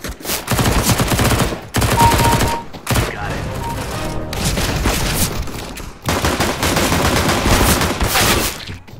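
Rapid bursts of automatic rifle fire in the shooter game CS:GO, loud and close, coming in several long sprays separated by brief pauses.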